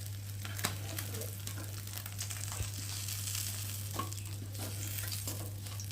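Parshe fish frying on a tawa, a soft steady sizzle with occasional light crackles and a faint scrape, heard alone and fairly quiet throughout.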